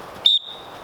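A single short, shrill dog training whistle blast used for basic obedience commands, loud and steady for a fraction of a second, then quiet room tone.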